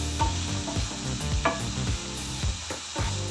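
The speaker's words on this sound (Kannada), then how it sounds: "ಈಗ ಈರುಳ್ಳಿ ಜೊತೆಗೆ ಶುಂಠಿ ಚೆನ್ನಾಗಿ ಫ್ರೈ ಆಗಿದೆ" Onion and ginger frying in a pan for dahi aloo curry, a continuous sizzle broken by repeated scraping stirs at a quick, regular pace.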